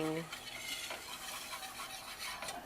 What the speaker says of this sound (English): Then add flour to make a roux. Whisk it up.